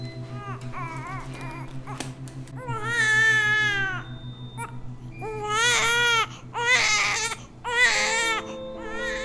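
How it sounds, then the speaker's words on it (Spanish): Newborn baby crying in a film delivery-room scene: several loud, wailing cries in bursts over a steady low hum, with a brief whimper at the start. "Escucha ese llanto."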